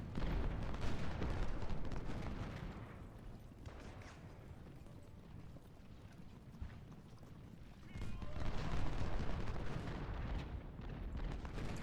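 Battle noise from a Civil War game at Harper's Ferry: dense rolling musket volleys and booming artillery, loud at first, easing in the middle, then swelling again toward the end.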